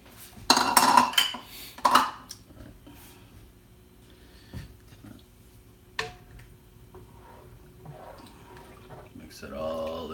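Vegetable soup with bean sprouts being stirred in a pot, giving a few loud clanks of a utensil against the metal early on, then softer scraping and clinking, with a voice speaking briefly.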